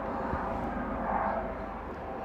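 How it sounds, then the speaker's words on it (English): A helicopter flies overhead as a faint, distant low rumble that swells slightly midway and then eases off, with no talking. "Oh no, it's a helicopter."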